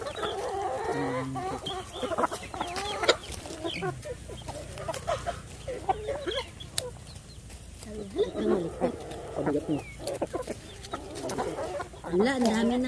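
Chickens at a farm eating area cluck and call repeatedly nearby while people chat over them in an outdoor setting.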